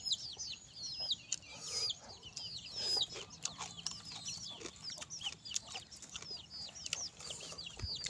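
Chickens clucking continuously and fairly close, a busy mix of overlapping clucks and chirps with a few louder calls and a faint low background hum, no talk.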